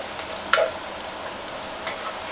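Spices and masala fry in a pan for tomato dal, a steady close sizzle broken by a brief scrape of stirring near the start.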